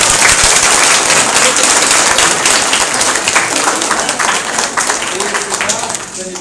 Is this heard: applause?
yes